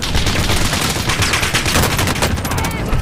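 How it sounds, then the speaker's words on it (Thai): Dense, loud bursts of automatic gunfire from a Call of Duty: Warzone firefight fill the stretch, with rapid overlapping shots and faint voices barely audible beneath them. "ยิงกันแล้ววะ"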